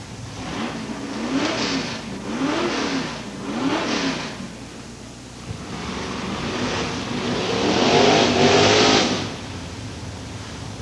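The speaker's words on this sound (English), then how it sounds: "Ultra 94 car, I'm sure, has just left the line." A 1979 Chevrolet Malibu drag race car leaves the start line at London Motorsports Park, engine rising and falling in pitch through several revving gear pulls, then a second louder surge near the end, heard from a distance.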